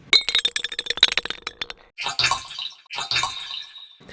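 A convolver effect built from crackly, poppy impulse responses gives clicky, glassy clinks and pops, first as a rapid scattered burst, then two smeared, washy swells with a gap between them.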